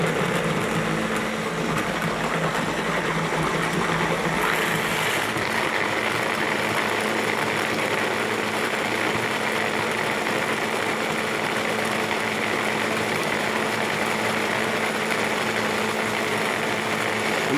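A kitchen blender whirs steadily for the whole stretch, blending ingredients for coconut-crusted chicken goujons, a continuous close motor hum with no talking.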